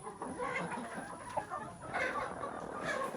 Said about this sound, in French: c'est où les poules viennent constamment pondre